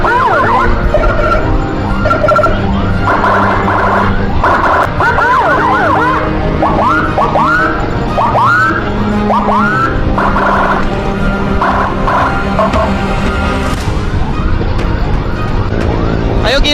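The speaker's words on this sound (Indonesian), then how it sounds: "sini ada satu unit ambulans di belakang bocil" An ambulance siren wails loudly and continuously on a busy road, its rising and falling tones repeating close by over traffic rumble, while a voice talks intermittently over it.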